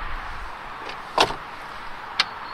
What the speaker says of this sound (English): Soft close doors, of course.